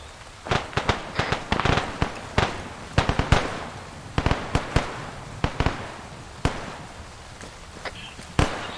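Sharp gunfire cracks from bolt-action rifles and light machine guns ring out in irregular single shots and short clusters, some close and loud, others fainter, with no talk over them.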